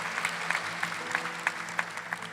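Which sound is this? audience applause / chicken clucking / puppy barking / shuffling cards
audience applause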